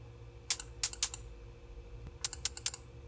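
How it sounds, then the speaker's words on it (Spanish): Short bursts of bright, hissy noise from a VCV Rack noise generator come in two clusters of three or four quick hits each, somewhat cymbal-like, over a low hum with no voice. "utilizando solo ruido, podemos hacer una especie de sonido medio de platillo, con un ruido más bien agudo"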